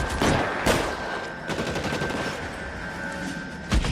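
Crime-drama video game shootout in L.A. Noire, with repeated gunshots cracking out at intervals over a dense, noisy battle background, one loud shot near the start and another near the end.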